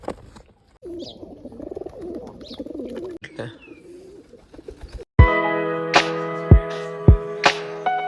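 Low, throaty pigeon coos ripple softly for several seconds, then give way to a louder sustained tonal sound with a few sharp clicks.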